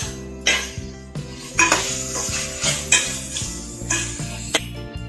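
Ginger garlic paste for chicken biryani sautés in a pan under a faint sizzle, with repeated metallic scrapes and clinks of a spoon against the pan at an uneven rhythm.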